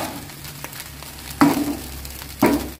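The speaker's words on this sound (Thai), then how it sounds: "บ้านนี้ผัดกับข้าวไม่ใส่น้ำมันเยอะนะ" Glass noodles with dried shrimp are stir-fried in a pan with little oil, giving a low, soft sizzle broken by two sharp scraping stirs.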